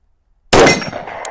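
A 10mm round from a Glock 20 Gen 5 strikes a small 4-inch steel plate, a single sharp metallic clang out of silence that rings on briefly and fades.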